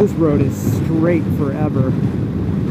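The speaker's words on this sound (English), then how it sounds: "this wind is just crazy strong" Strong wind buffets the microphone while riding a motorcycle on a long, straight highway, a steady roaring rumble throughout, with someone talking over it.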